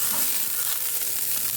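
Butter sizzles loudly in a hot pan as it is stirred, producing a continuous bright hiss with faint spatter, close and uninterrupted.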